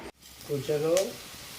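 Pakoras sizzling in hot oil, a brief frying hiss that swells and settles, close by, with a voice briefly over it.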